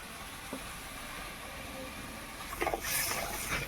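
Water poured into a hot pan of mustard-paste masala, cooked for a Bengali dish of elephant foot yam and puti fish, sets off a sudden hiss and sizzle after a quiet stretch of low simmering.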